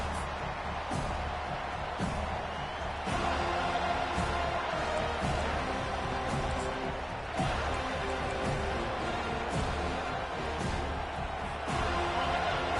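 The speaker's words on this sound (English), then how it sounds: "It's early, but this crowd is fired up. Listen to this noise here." Football stadium crowd at a Pitt home game against the Seminoles, a broad sustained roar with periodic surges and thumps, heard at a distance and moderately faint.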